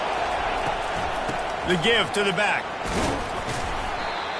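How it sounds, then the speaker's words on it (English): Roaring football stadium crowd during an early-game play, a continuous broad wash of noise under a commentator's voice, with a brief louder surge in the middle. "This crowd bringing the energy and noise early."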